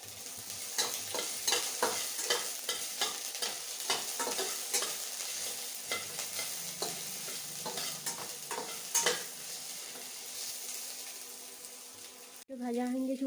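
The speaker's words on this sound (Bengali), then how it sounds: "খুন্তিতে করে লেড়ে নেব" A metal spatula stirs lentils frying in oil for khichdi, giving rhythmic scraping strokes over a constant sizzle, moderately close, before the stirring ends.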